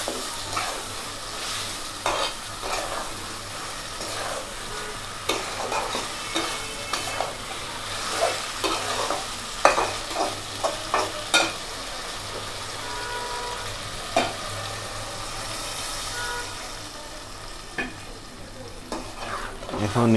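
Goat head and brains fry in a pan with a steady sizzle, while a spoon stirs and scrapes in frequent clattering strokes, close and continuous.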